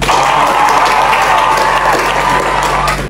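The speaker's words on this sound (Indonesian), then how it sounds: "Tepuk tangan dulu." A classroom of students claps together, loud and close, a dense steady patter of many hands that holds evenly for about three seconds before cutting off.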